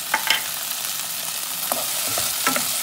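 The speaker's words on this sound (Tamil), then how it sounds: "வெங்காயம் கொஞ்சமாக வதங்கி வச்சு இதுக்குள்ள நாங்கள் தக்காளி பழத்தை போடுவோம்." Onions and tomatoes sauté in a pan for a Tamil vendakkai puli kuzhambu (okra tamarind curry), giving a steady close sizzle with a few sharp scraping stir strokes near the start and again later, and no talking.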